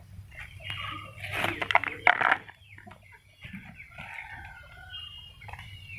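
Backyard chickens cluck while a rooster crows in a drawn-out call, joined by other fowl cries over a low steady hum, near and moderately loud.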